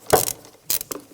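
A ratchet turning a 10mm socket loosens a bolt on a bracket by the throttle cable of a 1996-2002 Toyota 4Runner, giving a few short, close clicking bursts with pauses between.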